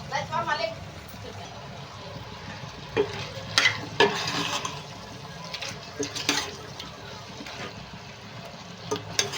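Mango chicken curry simmering in a pan is stirred, with a spoon scraping and clinking in bursts over a soft sizzle while a person talks.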